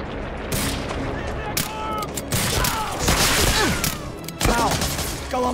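Gunfire in Medal of Honor Allied Assault cracks out in sharp bursts and single shots, loud and close, with distant booms and mechanical clatter mixed in. Brief shouting voices break through between the shots.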